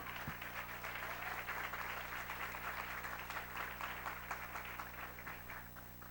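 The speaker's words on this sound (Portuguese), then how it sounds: "Aplaudamos esse Deus." Church congregation applauding together, a steady dense wash of clapping that stays loud and even from start to finish with no voices over it.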